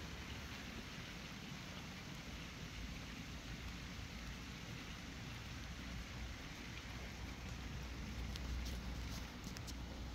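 Steady rain falls on a dark night, a soft continuous hiss with a low rumble beneath it, fairly faint and unbroken throughout.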